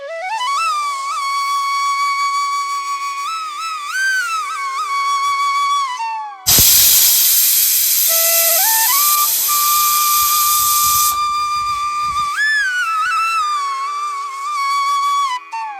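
A pressure cooker on a gas stove, cooking dal with too much water, sends out a loud burst of hissing steam lasting several seconds. Shrill whistling tones sound before and after it, with no talking.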